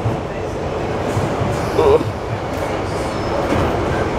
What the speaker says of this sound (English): Catching a train, so noisy and shaky.